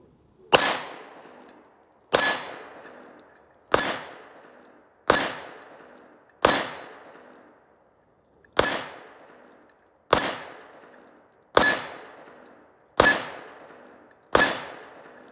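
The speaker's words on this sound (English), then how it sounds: "So that was 10 from the CZ 2075" Ten pistol shots from a CZ 2075 striking a steel plate at a range, each a sharp crack with a ringing metallic clang, evenly spaced about every one and a half seconds.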